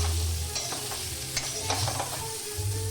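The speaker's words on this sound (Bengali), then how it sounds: "হলুদ দিয়ে নেড়ে নিচ্ছি এবার সব সবজিটাকে" Mixed vegetables for Bengali shukto fry with turmeric while being stirred, giving a continuous close sizzle broken by quick scraping turns of the spoon.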